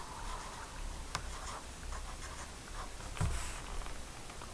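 Soft, close scratching of a pen or pencil writing a number by hand on paper, a faint run of short strokes with a slightly firmer mark near the end.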